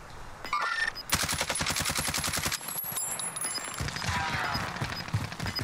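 Rapid bursts of automatic gunfire in Call of Duty Warzone (Cold War), loud and dense, with a steady stream of shots for several seconds before breaking into scattered, more distant fire.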